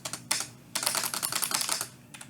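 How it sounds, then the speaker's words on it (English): A mechanical keyboard's spacebar pressed several times, loud clacking strokes with a loose rattle after each, in quick uneven bursts, close and without talk. "spacebar is the loudest"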